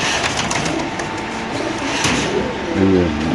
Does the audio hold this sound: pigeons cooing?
yes